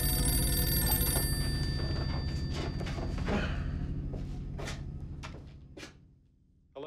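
A telephone bell rings in a Turkish drama scene, several bright repeated rings fading away toward the end, heard fairly clearly without talk over it.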